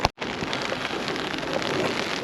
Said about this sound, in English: Sorry about the rain on the lens as well.